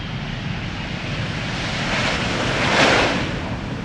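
A KLM jet airliner arriving at Schiphol roars past as a broad, steady rushing engine noise that swells toward the end, with no voices.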